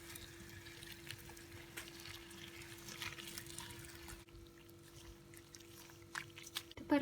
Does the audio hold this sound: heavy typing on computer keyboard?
no